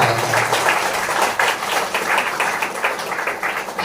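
A church congregation claps in thanks during a Sunday sermon, a dense and fairly loud patter of many hands with a loose rhythm that continues steadily for several seconds.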